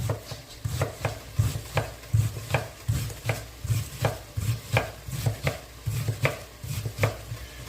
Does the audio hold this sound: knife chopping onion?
yes